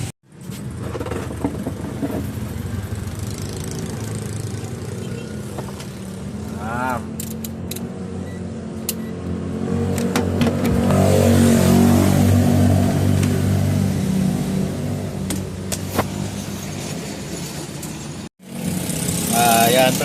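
A Honda Wave 110 motorcycle with a charging fault has its engine started and revved, a mid-pitched engine note that swells and holds under people talking nearby, then drops briefly before catching again.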